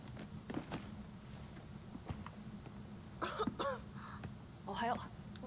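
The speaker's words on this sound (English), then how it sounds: "she's got anime girl cough" A few short, light coughs from an anime girl character come in quick clusters near the end, following quieter shuffling and soft background noise.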